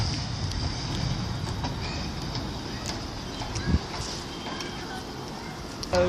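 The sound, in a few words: Manchester Metrolink tram 30013 arriving at Cornbrook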